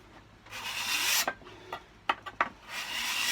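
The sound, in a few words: cabinet scraper scraping wood finish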